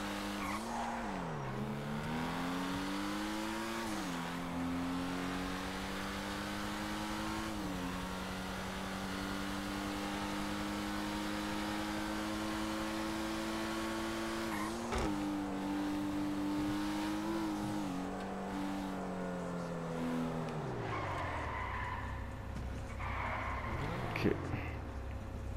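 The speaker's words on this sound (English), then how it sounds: "Rev your engines." Car engines rev together at a car meet in GTA Online, a sustained droning roar that swells and dips in pitch over and over, steady and fairly quiet, with a voice talking now and then.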